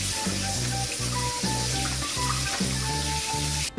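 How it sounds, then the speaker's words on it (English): Vegetables are rinsed under a cold running tap, a steady close-up stream of water pouring continuously with faint clatter underneath. "Rinse them with cold water."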